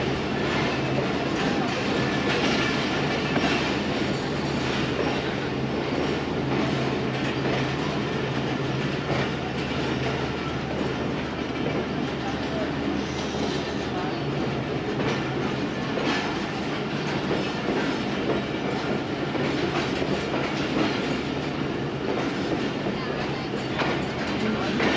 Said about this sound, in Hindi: Finally Rawalpindi railway station platform number 3 पे हमारी ट्रेन अप्रोच कर रही है।